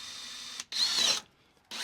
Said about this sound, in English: So I will just drill out the corners and then cut the rest with the multi-tool.